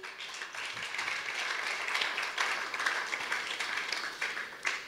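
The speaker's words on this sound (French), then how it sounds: "Est-ce que nous pouvons acclamer cette parole?" Church congregation applauds after a scripture reading, a soft, fairly distant patter of many hands clapping steadily for a few seconds with no voices on top.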